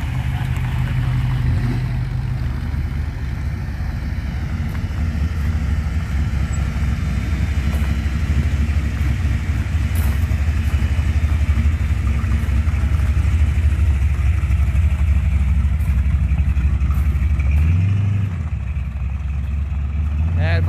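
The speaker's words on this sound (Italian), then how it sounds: "stanno continuando ad arrivare comunque sempre altre auto" Classic cars, including a Cuda, roll in to a car meet at Caorle, a continuous loud, deep engine rumble close by with idling and revving under someone talking.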